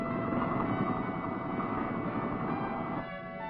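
Military helicopters flying low over thick jungle in Vietnam, a steady loud rotor and engine roar that continues without pause, easing slightly near the end.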